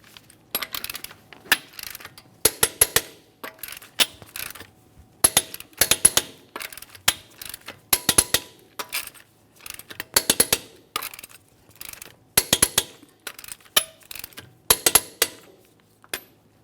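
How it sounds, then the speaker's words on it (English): A torque wrench tightens wheel lug nuts in a crisscross order on a 2017-2024 GMC Acadia, giving repeated sharp metallic clicks in spaced bursts, close and alone. "we can torque each of these to 140 foot-pounds. With the wheel back on the ground, we'll be torquing these in a crisscross manner."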